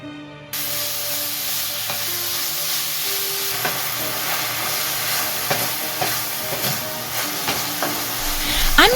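Spicy plant-based sausage fries in a pan with a strong, continuous sizzle and hiss, punctuated by occasional scraping stirs and clicks, close and loud.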